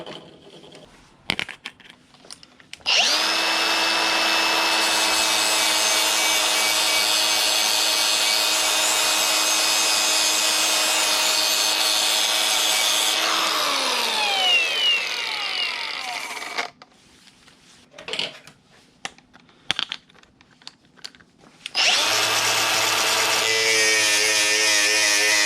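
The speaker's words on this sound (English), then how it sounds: "First, let's hit it with this flap disc. This is a 60 grit" A Milwaukee M12 die grinder with a 60 grit flap disc polishes metal in a loud, steady high-pitched whine for about twelve seconds. It winds down, goes quiet with a few small knocks, then starts up again near the end.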